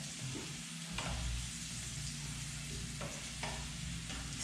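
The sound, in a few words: stirring turnips and garlic frying in a pan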